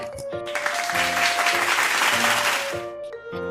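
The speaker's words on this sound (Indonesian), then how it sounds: "Berikan tepuk tangan" Applause in a school setting from a simulation-game drama, a short burst of many hands clapping layered over background music, starting and ending abruptly.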